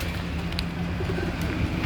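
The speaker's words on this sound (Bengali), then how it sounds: "এখানে অনেক ফ্যান্সি ফ্যান্সি কবুতর আছে" Soft, low coos from fancy pigeons in a netted enclosure repeat through a steady outdoor background hum, fairly close.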